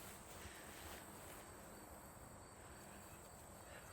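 Constant insect chirring and buzzing in an outdoor field during metal detecting, a steady high-pitched drone with no pauses, fairly faint and with no one talking.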